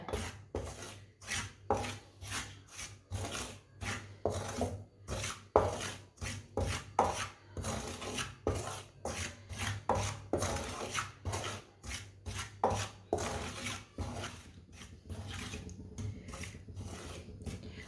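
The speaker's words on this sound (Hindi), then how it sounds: "इसे चम्मच चलाते हुए ब्राउन करना है, चम्मच को छोड़ना नहीं है" Metal spoon scraping and stirring wheat flour as it browns in a pan over low heat, a steady rhythm of close, dry rasping strokes repeating throughout.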